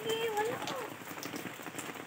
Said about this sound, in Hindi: पहली बारिश। बरसात का मौसम है।